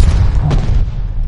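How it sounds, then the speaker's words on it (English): An incoming mortar round explodes in a video game as a single deep, heavy boom that rolls off into low rumble within a loud, continuous battle din. "Mortars incoming!"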